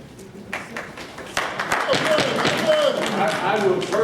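Scattered audience applause breaking out during a DC taxi commission regulatory hearing, beginning with a few claps and swelling into a steadier clatter, with voices mixed in.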